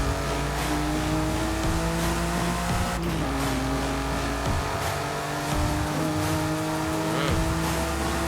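A BMW i8 sports car tuned to 614 horsepower accelerates hard at very high speed on a downhill road, its engine a loud, sustained drone whose pitch climbs steadily with a brief shift partway through.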